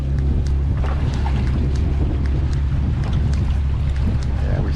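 A sailboat motor sailing out of La Paz harbour at night, its engine giving a steady, loud low rumble that runs unbroken, with wind buffeting the microphone and water wash over it.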